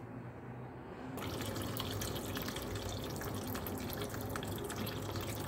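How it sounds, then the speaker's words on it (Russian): A tap gushes steadily into a sink, water splashing and pattering over red currants being rinsed, constant and close after a quieter start. "Промываем вот так вот под струей воды."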